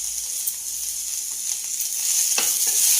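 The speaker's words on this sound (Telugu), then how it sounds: "ఈ వేగిన తర్వాత టమాటా ముక్కలు వేసుకొని, ఎందుకంటే అడిగంటిద్ది కదా, సిమ్లో పెట్టుకొని ఈ టమాటా ముక్కలు కూడా వేసుకుందాం" Ivy gourd and tomato pieces frying in a pan on low heat, a steady bright sizzle up close with a few soft stirring scrapes, growing slightly louder toward the end.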